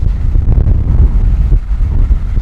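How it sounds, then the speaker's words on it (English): Wind buffets the outside of a narrowboat in the rain, a steady low rumbling roar with gusty surges, loud and close, with no voices. "it is raining and quite windy"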